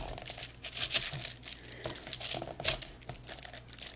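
Paper being cut in a paper trimmer: short crinkling, slicing rustles in quick irregular bursts, quiet and close, without talk.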